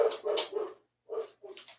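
A pet dog gives a few close, fairly soft barks mixed with whiny whimpers, in two short bursts separated by a brief silence.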